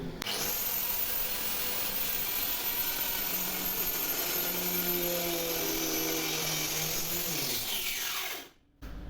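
A cutting machine saws through wood at a 45-degree angle, a loud sustained high whine with a grinding cut tone that holds steady for about eight seconds before the motor cuts off abruptly.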